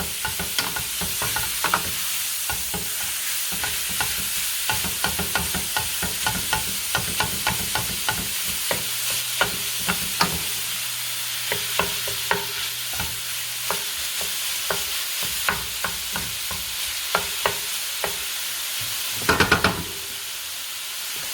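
Ground beef for chili con carne frying in a pan, broken up with the back of a spoon: a steady close sizzle runs throughout, with repeated scraping and stirring clicks from the spoon and a few sharper knocks near the end.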